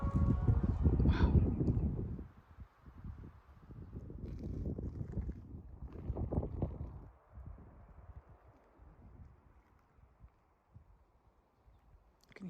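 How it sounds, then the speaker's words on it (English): Wind blows across the open ruins of the Cantona archaeological site in Mexico, rushing gusts buffeting the microphone in loud bursts that fade to a quieter breeze toward the end. "You can hear the wind."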